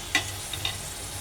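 Tomato fries in a pan as a spatula stirs it, producing a soft continuous sizzle with one sharp scrape and two lighter ones.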